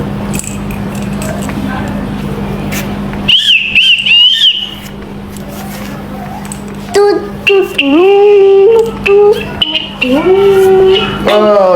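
A shrill whistle blows a short warbling note, followed later by several rising and falling whistle tones amid background noise and a steady hum.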